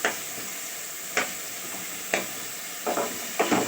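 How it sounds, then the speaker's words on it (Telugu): Pickle ingredients frying in a pan over a high flame, a soft steady sizzle broken by several short sharp crackles and pops, close up with no talking. "చూడండి అమ్మా, మంచిగా ఫ్రై అవుతున్నాయి చూడండి"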